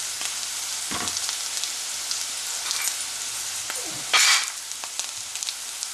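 Ginger garlic paste and green chili sautéing in a hot pan for mutton curry, giving a steady close sizzle with occasional stirring scrapes and a brief louder hiss near the end.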